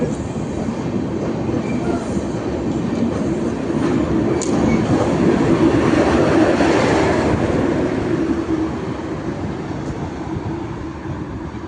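A long express train from Mumbai pulls out of the station with a loud, continuous rolling rumble and wheel clatter, swelling slightly as the cars pass close by.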